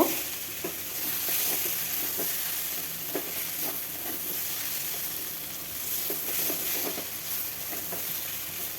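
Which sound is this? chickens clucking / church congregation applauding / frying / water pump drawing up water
frying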